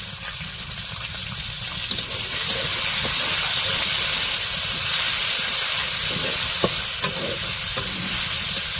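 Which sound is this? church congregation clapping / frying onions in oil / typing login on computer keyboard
frying onions in oil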